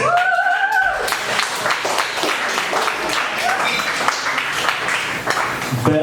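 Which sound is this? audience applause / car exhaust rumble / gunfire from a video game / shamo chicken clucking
audience applause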